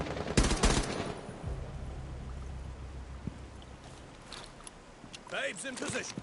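Rapid bursts of automatic gunfire sound in a Rainbow Six Siege match, with a sharp volley at the start and scattered, more distant shots later. Someone talks over the shooting.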